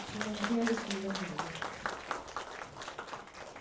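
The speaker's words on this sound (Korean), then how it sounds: "박수 한 번 더 쳐주세요." An audience at a Korean literary lecture event applauds, a dense patter of many hands that swells after a voice speaks over the start and carries on steadily to the end.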